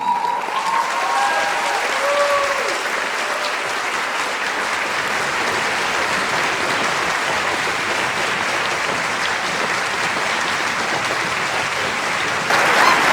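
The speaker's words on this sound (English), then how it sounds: "Another round of applause, please." An audience at a live talk event gives sustained, steady applause that fills the room, a continuous wash of many hands clapping with a brief whistle or cheer early on.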